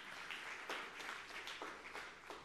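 Faint applause from a church congregation during a sermon, a continuous wash of clapping with a few sharper claps standing out.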